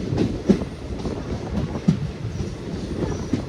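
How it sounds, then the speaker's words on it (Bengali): A passenger train rumbles steadily at low pitch with occasional clanks and soft squeals as it rolls slowly into Sargachhi station, heard from on board. "আমাদের ট্রেন এতক্ষণে পৌঁছালো সারগাছি রেলওয়ে স্টেশন।"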